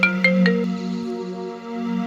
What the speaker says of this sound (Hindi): भाभी जी के नंबर से फोन आ रहा है।